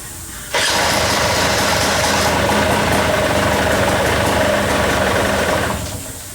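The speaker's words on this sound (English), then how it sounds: "fire the bike up and see if it comes on" A motorcycle engine turns over and catches, then settles into a loud, steady close-up idle that runs evenly for several seconds before easing off at the end.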